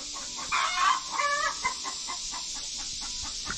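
Hens cluck in a backyard chicken coop, several fairly faint, quick clucks and calls heard alone.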